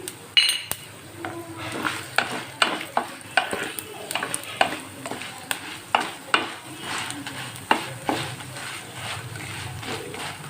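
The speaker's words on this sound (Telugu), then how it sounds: "ఇవి కొంచెం ఫ్రై అయినాక ఇందులో తీసుకున్న ధనియాలు కూడా యాడ్ చేసుకున్నాం" Coriander seeds and cumin fry in a pan for a leafy-greens chutney, with a steady dry sizzle broken by repeated sharp scrapes and clinks of a spoon stirring against the pan, close and fairly loud.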